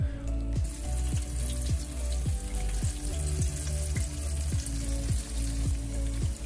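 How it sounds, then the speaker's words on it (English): Enoki mushrooms fry in oil in a pot over a medium-to-small flame, a steady close sizzle and crackle with a rhythmic series of soft knocks or stirs roughly every half second. "Next, oil into the pot. We use medium to small flame to fry them."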